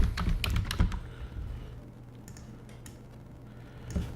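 Keys clatter on a computer keyboard as text is typed in After Effects, a quick burst of clicks at first, then a quieter stretch with a few scattered taps and a final small cluster, close and fairly soft.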